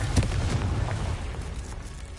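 A fiery blasting-spell explosion in Hogwarts Legacy, a deep rumbling boom with crackling bursts that rolls on loudly and gradually fades.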